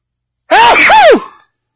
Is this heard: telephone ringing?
no